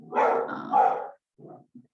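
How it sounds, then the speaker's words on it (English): Two dogs bark close by, a loud double burst followed by a couple of shorter, fainter yips trailing off indoors. "those are my dogs. I don't know if you're hearing them or not"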